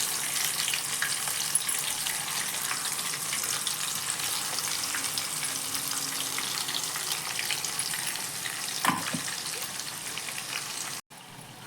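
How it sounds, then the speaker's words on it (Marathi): Ground masala paste fries in hot oil in a kadhai with a continuous, fairly loud crackling sizzle and a few faint clinks, steady throughout with no speech. "आता यात हा मसाला, वाटलेला मसाला आपल्याला घालून आणि चांगला परतून घ्यायचा आहे."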